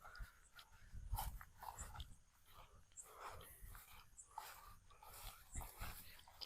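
A dog whimpers and whines in short, soft bursts outdoors at night, amid steady background noise and low rumble, with some faint voices nearby.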